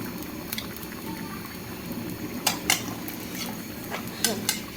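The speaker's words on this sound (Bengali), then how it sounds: "শাকের ঝোলটা বলক এসে গেছে" A pot of spinach curry broth at a rolling boil, a dense bubbling hiss close by, with a few sharp clinks of utensils against the pot.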